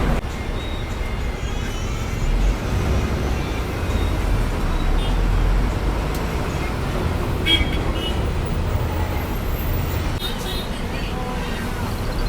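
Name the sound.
road traffic near Sriperumbudur road works, heard from bus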